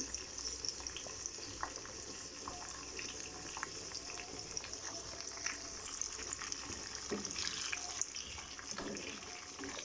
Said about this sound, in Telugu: దాంట్లో పచ్చిశనగపప్పు, ఆవాలు వేసి పోపు పెట్టి అవి వేగిన తర్వాత ఆనియన్స్ వేస్తున్నాను.